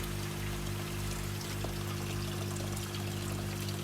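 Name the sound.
water flowing back into filter barrel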